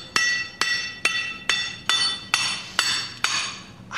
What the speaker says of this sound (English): using what they call a bore, a basic iron bar, usually about 3 feet long. Right. And a heavy hammer.